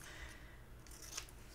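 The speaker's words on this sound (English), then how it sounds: "I'm going to cut the center out of that one" Scissors snipping through a folded card, a faint quiet cut with a small crisp click near the end.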